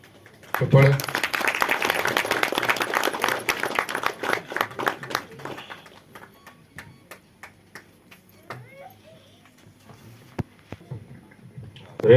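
Crowd applause at a film premiere event honouring guests. It starts abruptly, stays thick and steady for about four seconds, then fades into sparse claps and murmuring voices.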